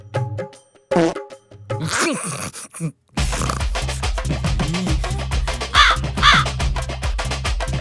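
A crow caws loudly and close several times in an uneven series, with harsh repeated calls layered over other sounds.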